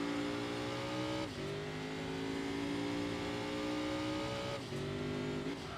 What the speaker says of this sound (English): Oh yeah, I love the turbo sound. I love the extra exhaust.